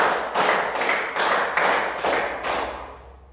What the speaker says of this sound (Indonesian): tepuk 7